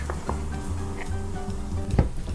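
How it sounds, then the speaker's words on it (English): Garlic sautéing in oil in a stock pot over medium-high heat gives a steady low sizzle with faint stirring clinks and one louder knock near the end. "We're gonna throw in our oil and our garlic. We're gonna saute this for about 30 seconds."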